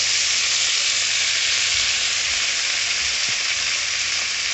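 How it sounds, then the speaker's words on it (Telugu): Washed mint leaves fry in a few spoons of hot oil, giving a steady, dense sizzle throughout with a few faint stirring knocks underneath, close and alone. "అటు ఇటు కలుపుకొని బాగా వాసన వచ్చే వరకు వేగనియ్యాలండి"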